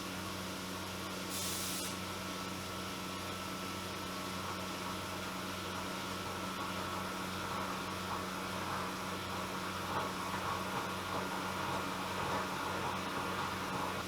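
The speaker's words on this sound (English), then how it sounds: "Yes, chip recutting. That's what that noise is." Boring on a milling machine with a long-flute tool, chips being recut inside the bore: a steady broadband grinding hiss with constant machine hum, continuous throughout, one brief bright burst near the start.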